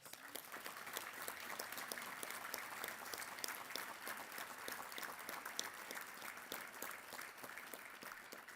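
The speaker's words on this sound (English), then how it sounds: "Can we give them a round of applause?" A crowd claps steadily throughout, a dense, even wash of applause from many hands, heard at a moderate distance.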